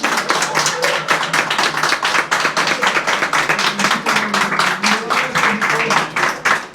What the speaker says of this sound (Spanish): Quiero que se den un fuerte aplauso para ustedes y para estas dos fieras.